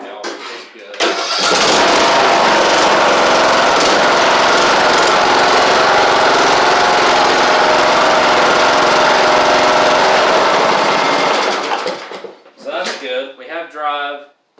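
Husqvarna YTH2042 riding mower with its deck removed, engine running steadily loud and close for about ten seconds while it drives, then cutting out, followed by brief talk.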